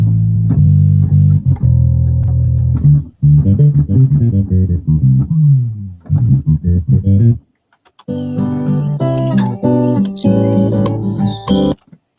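A software plugin four-string electric rock bass plays a melodic line with sustained notes and slides, close and loud, pausing briefly before a brighter, busier phrase.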